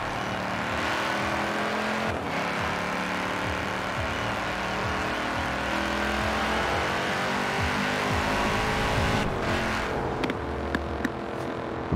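A powerful Audi RS6 engine in the video game Forza Horizon 4 drones steadily for a long stretch, revving and holding high, with a few sharp bursts near the end.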